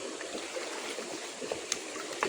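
A full river running high after rain, a steady broadband rush of flowing water with a few small splashes, close and continuous.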